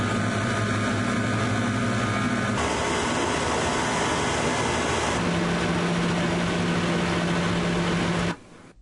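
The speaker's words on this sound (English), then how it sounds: "We've got electrical hum, we have fan noises, we have light noises, we have engine noises" Room tone made of electrical hum, fan whir, light buzz and engine drone blends into a dense, steady wash of noise that changes character twice, then cuts off abruptly near the end.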